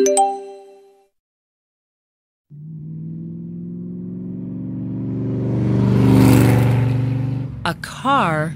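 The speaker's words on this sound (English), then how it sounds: "A car goes by. Beep, beep!" A car approaches and passes with a rising engine whir that swells and fades, followed at the end by a few quick warbling electronic horn beeps, after a spoken line at the start.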